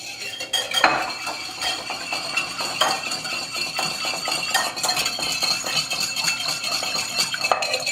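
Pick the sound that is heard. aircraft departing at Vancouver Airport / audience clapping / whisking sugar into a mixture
whisking sugar into a mixture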